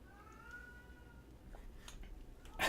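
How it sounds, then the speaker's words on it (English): A house cat cries with a drawn-out, wavering meow that starts early, trails off faintly in a quiet room with low background noise, then a brief louder rustle near the end. "A cat always cries when my wife's getting ready to leave."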